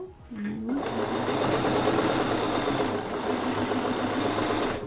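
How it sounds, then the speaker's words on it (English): A sewing machine back stitching on a quilt runs in one steady, close mechanical whir for several seconds after a brief start, with a faint voice at the beginning. "Now we will back stitch about here."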